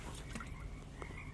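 Frogs croak in a dense outdoor chorus, a steady wash of overlapping calls with a few sharper croaks standing out and no talking.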